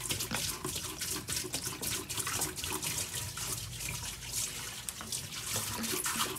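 Liquid poured steadily from a container into a drain during RV winterizing, a continuous splashing gurgle, close and fairly loud, running the whole time with no voices.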